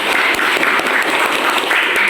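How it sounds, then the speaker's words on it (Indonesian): A short burst of steady, dense applause from a class during an Islamic religious studies lesson, continuous and fairly close throughout. "Tepuk tangan."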